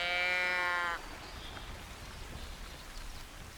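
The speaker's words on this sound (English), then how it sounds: "Looks like this wind and rain's finally starting to die down," Steady rain in theHunter: Call of the Wild as wind and rain die down, a soft continuous hiss that follows a brief tonal sound at the start.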